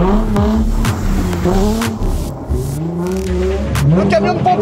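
A Japanese sports car engine revs loudly and close, rising and falling in repeated throttle blips with sharp crackles, while someone talks excitedly over it.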